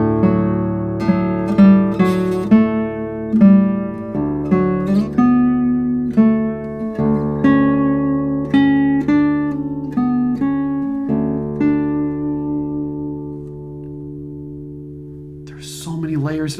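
A 1989 Hermann Hauser III classical guitar is plucked over the neck, playing a flowing melody of clear, ringing notes over sustained bass tones. The playing is close and full, with a light noise right at the end.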